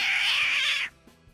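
A human voice imitates a dog and cat fight with one loud, sustained, cat-like screech that cuts off abruptly and is followed by near silence.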